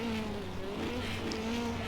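Classic hot rods, including a Mark II Escort, lapping Bristol's oval track, a distant, fairly faint blend of engines humming steadily with no one speaking over it.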